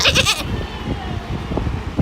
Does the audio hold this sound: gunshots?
no